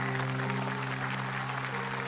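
Audience applauding at a Hindi-language speech or event, a steady dense wash of clapping held evenly throughout, with a low steady hum running underneath and no voices.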